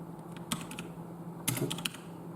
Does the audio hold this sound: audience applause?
no